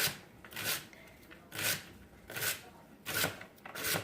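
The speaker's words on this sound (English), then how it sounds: "So I use the tops too because this is where there's a lot of flavor here. So I always use the tops. So just give this a nice good chop." A knife chopping celery tops on a cutting board in a home kitchen, heard as four evenly spaced bursts of rapid crisp cuts, close and fairly soft, with no talking.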